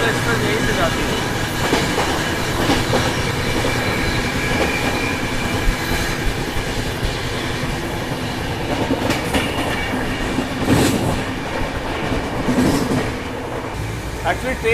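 Doronto Express passenger train on the Chennai–Delhi line running on rails at night, a steady close rumble of wheels and carriage noise throughout with brief louder clatters near the end.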